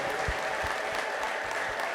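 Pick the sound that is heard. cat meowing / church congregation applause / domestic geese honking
church congregation applause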